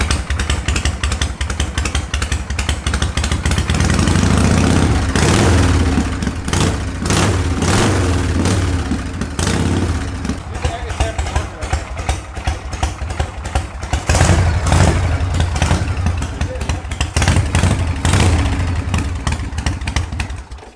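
A motorcycle engine runs loud and close for about twenty seconds, idling roughly with a pulsing beat and rising into repeated revs, with no voices over the engine.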